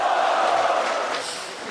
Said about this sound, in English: Isn't that got the biggest cheer that we've heard?